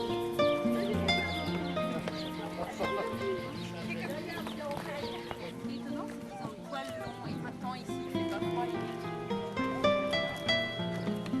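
Farm animals in Cyprus, donkeys among them, bray and call alongside hoof clip-clops and stray bleats, with a French narrator speaking over much of it at moderate loudness.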